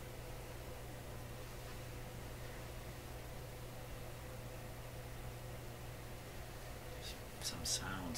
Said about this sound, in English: Some sounds kind of coming out of the radio itself.